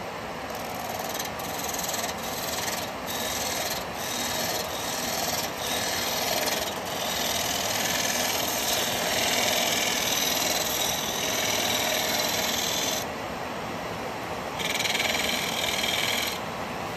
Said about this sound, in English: We're going to use a 9mm box hollower.